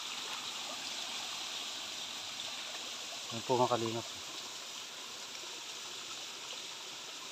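Strong river current rushing steadily, a constant broadband roar of moving water close by throughout, with a brief spoken voice partway through.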